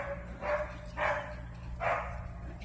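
Dogs barking while they play outdoors in the morning, three loud bursts of barking spaced about half a second to a second apart over a steady low background hum.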